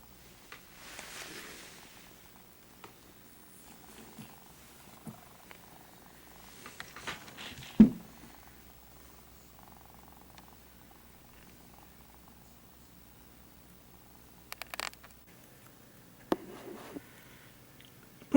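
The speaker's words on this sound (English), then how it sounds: "Black cat's laying here in the sun." A black cat lying in bright sun on a snowy day purrs softly and steadily throughout, close by and quiet, with a few faint knocks and rustles around it and no talking.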